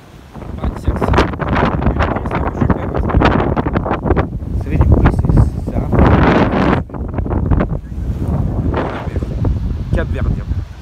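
Wind buffets the microphone in loud gusting rumbles in Cape Verde, heavy and continuous, with a person talking over it throughout.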